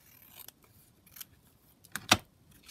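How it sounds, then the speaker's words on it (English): Paper being trimmed for a scrapbook page layout: a handful of crisp scissor snips, sparse and close, the loudest pair near the end, with quiet pauses between cuts. "So just going to trim that down here, trim it down at the side."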